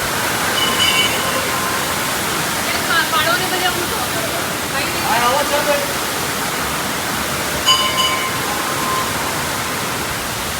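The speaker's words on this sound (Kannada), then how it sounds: "ಪಕ್ಕದಲ್ಲಿ ಜಲಪಾತ, ಒಂದು ಕಡೆ ದೇವಸ್ಥಾನ, ಇನ್ನೊಂದು ಕಡೆ ಜಲಪಾತ." A waterfall rushes steadily beside a stone temple, a constant broad roar of falling water with faint voices drifting over it now and then.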